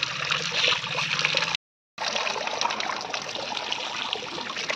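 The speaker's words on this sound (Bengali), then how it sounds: "আর আমি এখন মাছটা ধুয়ে নিচ্ছি" Running water streams steadily while fish, including bhola fish, are rinsed under it, a continuous close splashing trickle broken once by a brief silence before the flow resumes.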